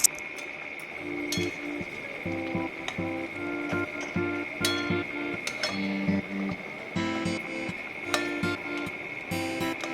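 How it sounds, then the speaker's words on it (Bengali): Baul fish being stirred into a mustard-paste achari curry in a pan: faint, irregular clinks and taps of a utensil against the pan over a steady background hum, with no talking. "মাছগুলোকে আমি এবারে ঝোলের সঙ্গে মিশিয়ে নিচ্ছি"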